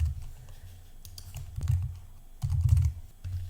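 Typing a tab name on a computer keyboard, bursts of close, soft key clicks in quick uneven runs separated by short pauses, with no voice over them.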